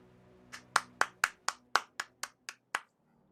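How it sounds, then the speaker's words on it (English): About ten crisp hand claps in a steady rhythm, close and clear, with no talking. "I'll manually clap if I must."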